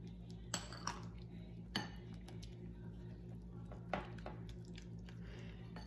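Cornstarch being mixed into homemade natural deodorant in a bowl: quiet, sparse clinks and taps of a utensil against the bowl over a low background hum, with a few soft squishy strokes.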